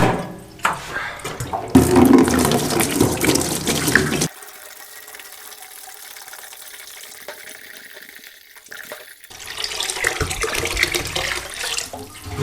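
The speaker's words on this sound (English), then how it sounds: "I'm going to go ahead and dump all of this vinegar out into this bucket" Vinegar pours out of a motorcycle fuel tank into a bucket, a loud close gush and splash that stops abruptly, leaving a quiet stretch before more sloshing and trickling returns.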